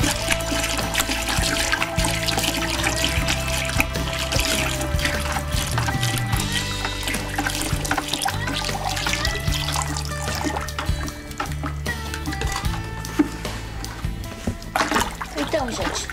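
Alcohol is poured slowly into used cooking oil and stirred for homemade soap, a steady continuous liquid trickling and sloshing that runs throughout, close and fairly loud, with music or voices faintly underneath.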